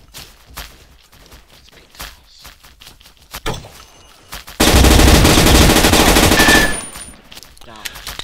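Rapid automatic gunfire in the first-person shooter Blockade 3D, a loud sustained burst of about two seconds following scattered lighter clicks and thumps, with a brief voice nearby.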